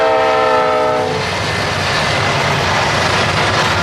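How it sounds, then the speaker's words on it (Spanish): A railway train rolls past loudly and steadily, its horn sounding in sustained tones at the start before giving way to a continuous rumble and rattle of the moving cars. "Miles de años después llegó el ferrocarril."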